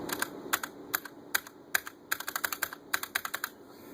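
Keys clatter on a Corsair Vengeance K70 mechanical keyboard, first in a slow, spaced series of sharp presses and then in a faster run of clicks, close and crisp with no talking.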